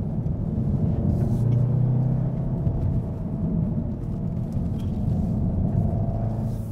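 A 2015 VW Golf R in race mode carries a steady, loud engine drone and road rumble from inside the cabin as it drives through a twisting stretch of corners, with no talk heard.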